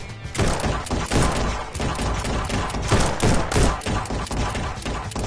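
Dense, continuous gunfire from the VR shooter game Guns n Stories: Bulletproof VR, rapid overlapping shots and thumps filling the whole stretch, loud and close with no pauses.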